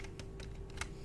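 A computer keyboard is typed on in a quick short burst of about six close, light key clicks, steady in level and with no voice.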